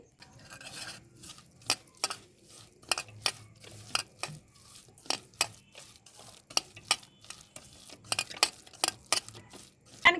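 Oil and masala mixed by hand for fish fry, a wet squelching and scraping that repeats in a steady rhythm of separate strokes, close and fairly quiet with no talk.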